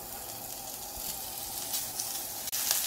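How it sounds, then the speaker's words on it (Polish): Finely diced bacon sizzles in a hot frying pan, a steady close hiss and crackle of spitting fat that holds evenly throughout, with brief bright pops and a stirring scrape near the end. "Na rozgrzaną patelnię wrzucamy sobie najpierw boczek."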